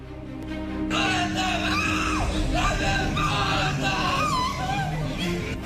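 A police officer screams in grief after learning his wife and 13-year-old daughter were shot, loud anguished wails rising and breaking repeatedly with a crowd murmuring around him.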